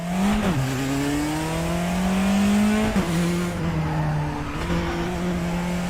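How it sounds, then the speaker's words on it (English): A Praga race car in a racing video game brakes hard with its wheels locking up. The engine howls loudly while its pitch drops and climbs through several gear changes, and a tyre squeal can be heard during the lock-up. "oh, a bit of a lock up into turn one there"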